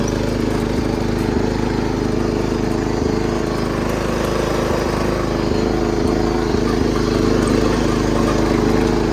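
A riding lawnmower engine runs steadily and loudly up close, a constant droning mid-range hum with a rough mechanical texture holding even for the whole stretch and no voices over it.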